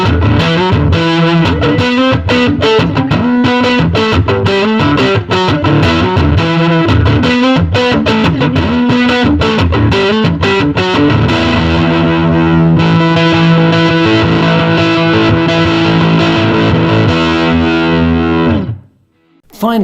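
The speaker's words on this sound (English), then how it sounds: "This is a classic 60s style fuzz that uses authentic NOS germanium" Electric guitar run through a Höfner germanium bass fuzz pedal with vintage NOS germanium transistors, playing a loud, dense stretch of distorted chords and riffs that rings out and cuts off near the end.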